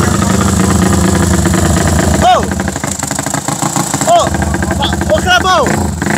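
A motorcycle engine runs for the first time after a rebuild, idling steadily and loudly throughout, a low rumbling drone, while people exclaim and talk over it.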